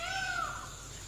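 A single wild peacock call rings out in a quiet forest in Udanti-Sitanadi Tiger Reserve, a clear, slightly distant wail that slides downward and fades within a second.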